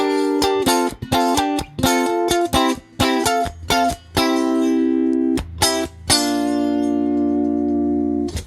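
Strummed chorus chords of a song on guitar ring out in short rhythmic bursts, some choppy and some sustained, played alone and close.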